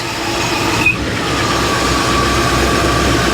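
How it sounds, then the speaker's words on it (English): A 1955 Chevy Nomad engine, revived after sitting 30 years, idles with a steady low rumble and broad mechanical noise, no voices, continuous throughout. "But now it's idling kind of more normal."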